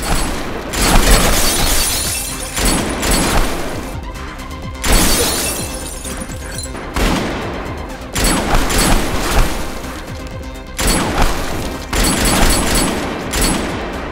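Intense bursts of gunfire from an action-film shootout crash in repeated loud volleys, rapid shots and shattering impacts separated by brief lulls.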